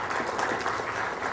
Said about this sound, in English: you guys weren't even there, so why are you clapping?